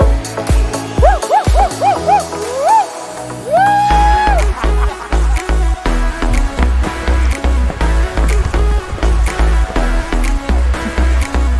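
A dog barks and yips in rapid, repeated bursts, close and loud, with whining cries and some background commotion throughout.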